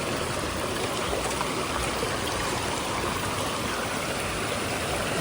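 A village stream swollen after rain rushes steadily past, a loud, unbroken wash of flowing water with no pauses or voices.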